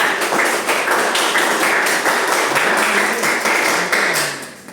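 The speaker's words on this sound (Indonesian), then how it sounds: "Beri aplaus dulu untuk 3 tadi." Applause from a class of trainees in an Indonesian on-the-job coding and AI training session, steady dense clapping filling the room for several seconds before tapering off at the end.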